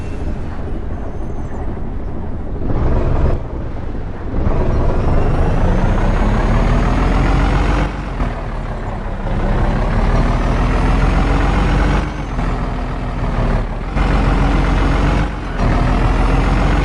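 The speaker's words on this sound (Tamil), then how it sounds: "வண்டி ஸ்டார்ட் பண்ணி" An Ashok Leyland Taurus heavy truck's diesel engine starts and runs, a loud, close rumble with rising and falling revs and brief dips, continuing steadily throughout.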